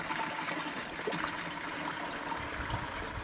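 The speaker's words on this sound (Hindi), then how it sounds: "एक लीटर दीदी ब्रह्मास्त्र घोल में दीदी हमे 10 लीटर पानी डालै छियै दीदी।" Steady trickle of water being poured into a Brahmastra solution, a continuous close gurgling stream with no talk over it.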